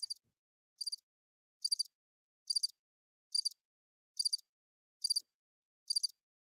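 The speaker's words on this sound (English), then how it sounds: "I just heard crickets" Crickets chirp in a steady, regular series of eight short, high trills spaced about once per second, quiet and alone against silence.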